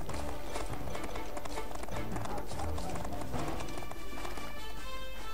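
Horse hooves clip-clopping in the Western video game Desperados 2, a brisk continuous galloping rhythm of repeated hoof strikes, fairly close and loud over layered game music and ambience.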